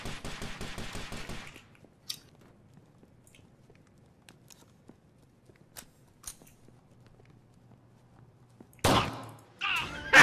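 Gunfire from an automatic rifle emptying a 30-round magazine in a first-person shooter video game: a dense rapid burst at the start, then near quiet with scattered clicks, and another sharp loud burst near the end.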